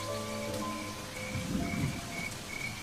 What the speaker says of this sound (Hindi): इतनी बारिश को भी आज ही आना था।